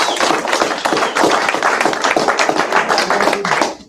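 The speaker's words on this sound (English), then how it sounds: "give yourself and your higher power a round of applause" Attendees at a sober fellowship meeting clap together in a dense, steady round of applause, close and loud throughout, stopping abruptly at the end.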